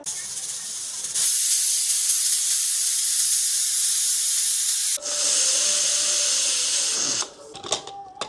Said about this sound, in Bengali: আমি প্রায় পনেরো মিনিট পর এই প্রেশার কুকারটা খুলতেছি